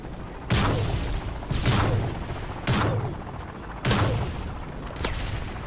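Bursts of gunfire in MW3 aimed at an Osprey aircraft, with five heavy booming volleys spaced about a second apart, each trailing into a rumbling echo.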